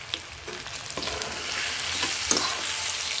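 Olive pickle with sugar and a little salt being stirred in a pan, with a steady low sizzle under soft scraping strokes of the spoon, close and continuous, no one talking.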